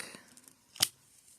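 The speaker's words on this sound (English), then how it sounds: "I'm going to cut the black." Scissors snip black yarn during crochet work on a coaster, a single sharp cut standing out against quiet room tone.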